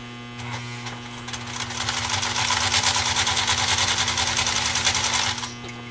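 A 1962 Spartan leather sewing machine stitches two layers of vegetable tan leather, starting slow and building into a fast, steady mechanical chatter over a constant motor hum before easing off.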